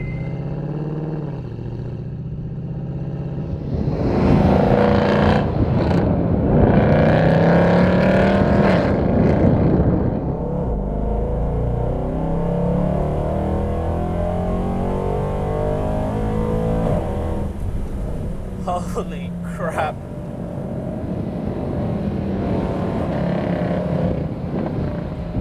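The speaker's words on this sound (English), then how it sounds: "You probably can't hear me talk because the engine is so loud." Mercedes C63 AMG Black Series engine roaring loud and close in Dubai, a sustained deep rumble swelling as it accelerates, then easing and building again, with a brief exclamation over it.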